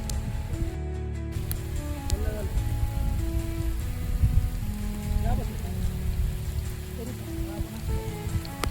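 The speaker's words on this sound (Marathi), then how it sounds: "आज पहिला पाऊस." First monsoon rain at Avchitgad fort in Raigad, a steady close patter of drops on surfaces with a low wind-like rumble, faint voices briefly audible beneath.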